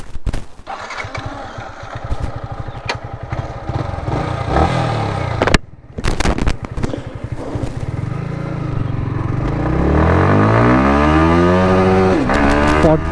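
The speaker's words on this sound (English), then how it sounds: "Today I will be testing the top speed of my bike in first 3 gears." A motorcycle engine idles briefly, then revs hard and accelerates through first, second and third gears, with rising engine pitch between shift dips, loud and close throughout.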